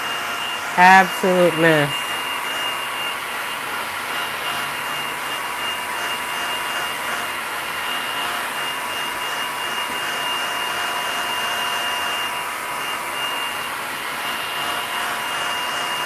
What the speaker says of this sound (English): you definitely don't want to be drying your paints while you blow drying